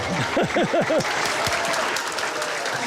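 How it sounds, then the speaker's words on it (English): An audience breaks into loud, dense applause that fills the space, while a voice with rising and falling tones sounds over the start of it. "Give them both a big round of applause."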